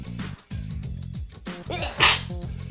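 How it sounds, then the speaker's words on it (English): A single sharp sneeze bursts out near the end, close and loud, after a stretch of quiet tonal background sound. "I have to sneeze."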